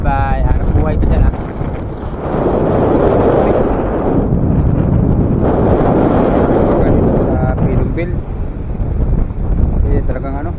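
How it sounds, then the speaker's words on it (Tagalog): Strong sea wind battering a fishing boat, heavy gusty buffeting that swells and fades in long surges, with a voice speaking briefly at the start and again near the end. "kaya yung hangin, napakalakas"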